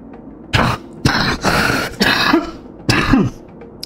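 A person coughs and clears their throat in several separate bursts, close and fairly loud, with short pauses between, while playing the space-station game Stationeers; no speech.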